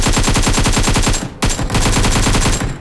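Rapid automatic gunfire rattles in BGMI, a loud, close, continuous burst that breaks briefly and then resumes at the same fast rhythm.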